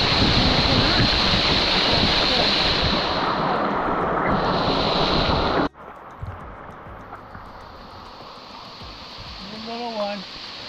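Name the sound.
waterfall crashing onto rocks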